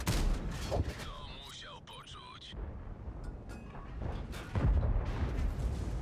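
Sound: tank cannon shots in video game

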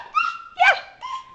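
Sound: dog whimpering

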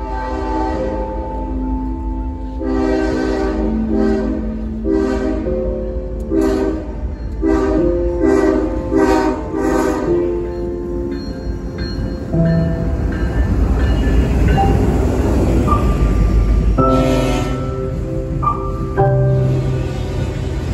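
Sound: Norfolk Southern intermodal freight train passing

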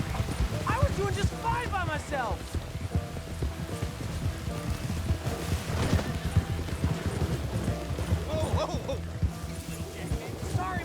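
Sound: horse galloping in video game Red Dead Redemption 2

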